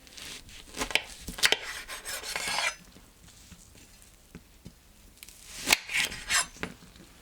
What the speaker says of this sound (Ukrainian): Апельсинову шкірку розріжте на 8 частин.